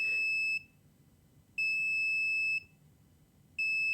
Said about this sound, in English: Apparently it beeps at you when it's ready.